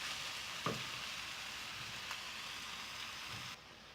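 Masala mixture sizzling in a pan on a medium flame for a fish curry, giving a steady, even crackle with a few light stirring knocks and no voices.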